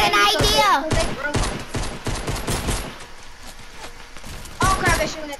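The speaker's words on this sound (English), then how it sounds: "Oh, crap, they're shooting at you, bro." Video game gunfire in a multiplayer shooter match, with loud rapid bursts of automatic fire ringing out over excited players talking.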